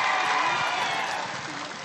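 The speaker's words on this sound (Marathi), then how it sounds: "त्या माणसासाठी एक टाळ्या, सगळ्यांसाठी टाळ्या वाजवा." A crowd at a political rally in Beed applauds in a steady, dense wash of clapping that carries evenly through the brief moment and tapers only slightly at the close.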